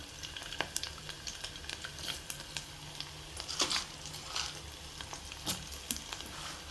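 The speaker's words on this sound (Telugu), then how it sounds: "పచ్చిశనగపప్పు, ఇదంతా బాగా ఫ్రై చేయాలండి." Chana dal tempering fries in hot oil for a tomato pickle, giving a steady close sizzle with scattered sharp crackles and pops throughout, no voices.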